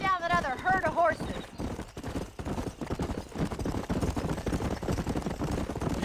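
Horses galloping in the Red Dead Redemption video game, a brief whinny at the start, then rapid drumming hoofbeats under game dialogue and speech.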